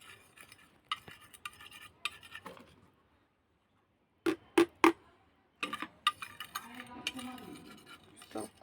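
Spoon stirring a mixture in a bowl, with close scraping strokes and light clinks in irregular bursts, a short silent gap, then faster mixing again.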